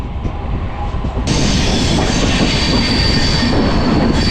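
The Ratnagiri–Diva passenger train on the Konkan Railway rumbles loud and close, with a continuous roar of wheels on track and a squealing, steady rush that swells and holds throughout.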